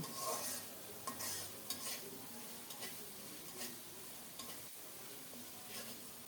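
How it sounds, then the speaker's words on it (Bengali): Spice paste fries in oil in a pan while a spoon stirs it. A soft, steady sizzle runs throughout, broken by irregular scraping strokes, heard close and fairly quiet. "আরও কিছুক্ষণ নেড়ে চেড়ে কষিয়ে নেব"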